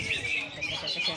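Green leafbird (cucak hijau) singing at a bird-song contest, a busy run of bright, high chirps and warbles that continues without a break, with faint background noise underneath.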